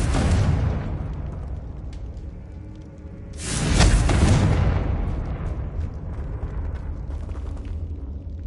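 Explosive spells such as Bombarda and Confringo go off in the Hogwarts Legacy video game on PS5: a heavy booming blast at the start rumbles away, then a second loud detonation bursts around mid-clip and trails off in a crackling roar.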